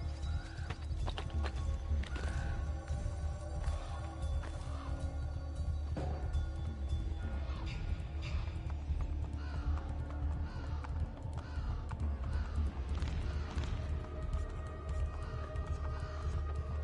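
Horse in Assassin's Creed Brotherhood, with rapid continuous hoofbeats clattering along and short neighs and whinnies rising over the gallop, plus occasional crow caws in the background.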